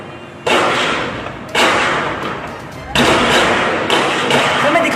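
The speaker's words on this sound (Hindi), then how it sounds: "सर मेरे सामने गोलियां चल रही हैं।" Gunfire rings out during an attack on the Pakistan Stock Exchange in Karachi, several loud sharp cracks spaced a second or so apart, each followed by a trailing wash of noise.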